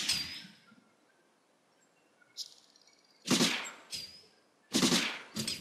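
Gunfire from a machine gun and a rifle in the video game Silent Storm, several sharp bursts of shots with a quiet gap between them, each burst loud and close.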